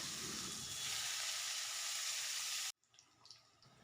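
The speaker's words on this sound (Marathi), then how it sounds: "कढईमध्ये दोन चमच तेल टाकून त्यामध्ये जिरे फोडणीला दिले आहे त्याचबरोबर थोडेसे हिंग देखील टाकलेले आहे एक तमालपत्र आणि बारीक चिरलेला कांदा टाकून घेऊयात" Cumin, asafoetida, a bay leaf and finely chopped onion frying in oil in a kadhai, a loud, dense, steady sizzle close up that cuts off abruptly, leaving faint quiet noises.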